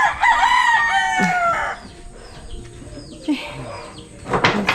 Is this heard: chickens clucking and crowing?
yes